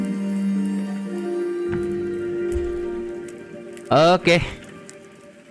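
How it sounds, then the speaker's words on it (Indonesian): Rain falling in the survival game RuneScape Dragonwilds, a steady soft patter behind game tones and a voice talking briefly over it. "Nah, hujan tapi ya."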